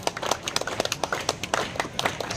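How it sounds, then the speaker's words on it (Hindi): A crowd at a football tournament gives a short burst of scattered, uneven hand claps to welcome a guest, heard close and fairly loud. "जोरदार करताली"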